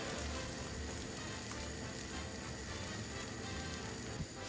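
Pancake batter sizzles steadily in a hot frying pan, a dense, continuous crackling hiss that stays even and close throughout, with one slight pop near the end.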